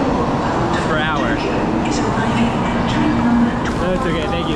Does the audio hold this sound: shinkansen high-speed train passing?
yes